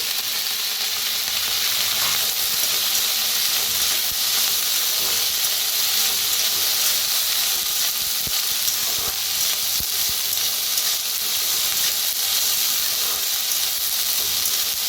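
Chickpeas roast in oil on a wood-fired village stove with a loud, continuous sizzle and hiss, and a few sharp stirring clicks break through close by.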